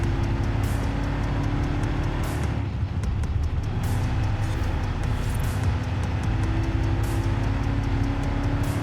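A 1990 Aston Martin Lagonda drives in Forza Horizon 5, its engine holding a steady loud drone with a low rumble and faint ticking, cornering without any break for the whole stretch.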